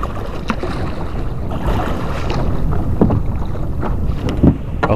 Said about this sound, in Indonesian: Situasi angin cukup kencang, jadi agak susah juga untuk saya mendayung kano ini ya